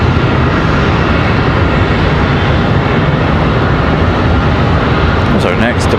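An American Airlines airliner departs Charlotte Douglas airport bound for Nashville, a steady broadband engine roar filling the scene throughout with a voice talking over it.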